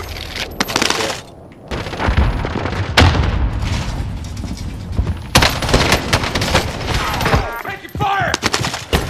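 Rapid gunfire and bursts from the video game Call of Duty: Warzone, including akimbo pistols and an FFAR rifle, loud and close with repeated volleys, a sharp drop in sound near 1.5 seconds and players calling out over the action.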